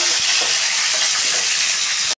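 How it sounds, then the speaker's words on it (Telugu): Battered pieces of food dropped into hot oil, crackling and sizzling loudly with a dense, continuous hiss close up, ending abruptly. "ఇప్పుడు నేను ఏంటంటే ఈ నూనెలో వేసేస్తున్నాను"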